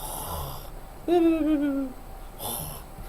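A man imitates snoring with his voice, making one drawn-out, nasal, wheezing snore that is loud and close, set between quieter stretches of room tone.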